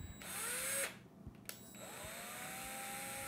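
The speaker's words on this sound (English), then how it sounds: "I'm going to start off fairly slowly so that I give my drill time to catch" A power drill bores slowly into a plastic doll head, its motor whining steadily, then stopping briefly before starting up again and running evenly at close range.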